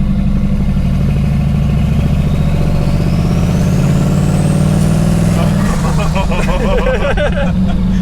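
A Jeep V8 with a check engine light lit is held on a brake boost, its low engine drone steady and loud before a sharper surge of revving near the end, with voices talking over it.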